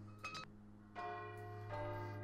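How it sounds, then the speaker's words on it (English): A doorbell-like bell chime rings in the Day of the Tentacle adventure game, giving a short two-tone ding-dong with ringing tones over a steady background hum. "Ding dong. Now that's service."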